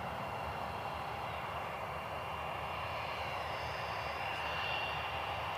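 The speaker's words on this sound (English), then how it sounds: "United 1084 taxiing for departure, Airbus A320 heading to Chicago." United Airbus A320 airliner taxiing for departure at Cleveland Hopkins airport, a steady distant engine whine and roar, fairly faint and continuous, with no voices.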